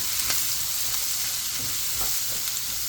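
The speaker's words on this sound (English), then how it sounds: "And then I'm gonna put the onion next. Make it translucent." Onion stir-frying over high heat for a quick beef stir-fry with frozen vegetables, giving a steady close sizzle and crackle with a few soft stirring scrapes and taps mixed in, no voices.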